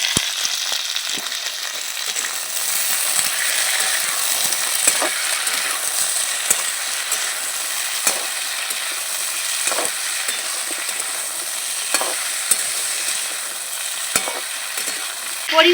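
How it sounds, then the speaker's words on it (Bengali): Cut potatoes and drumstick pieces fry in a little oil, a steady, close sizzle running the whole time, punctuated by occasional light clinks and scrapes of stirring. "কেটে রাখা আলু আর ডাটা হালকা লাল করে একটু তেলের মধ্যে ভেজে নেব"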